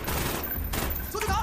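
Rapid bursts of gunfire from a shooter video game crackle nonstop through the moment, loud and dense, with a brief thinning before the shots pick up again.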